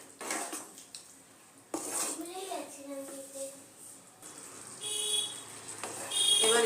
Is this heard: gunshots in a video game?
no